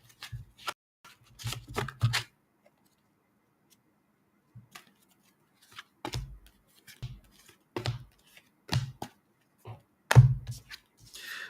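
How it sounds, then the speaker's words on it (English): A deck of oracle cards is shuffled and cut by hand, producing short clustered riffles and soft slaps in separate bursts with quiet gaps between them, close and fairly faint. "let me give it a final shuffle and a cut."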